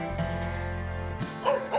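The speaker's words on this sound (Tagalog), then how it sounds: "Ang daming aso." Several dogs bark on a rural farm in the early morning, giving a few faint, short yips and barks near the end over a low, steady background hum.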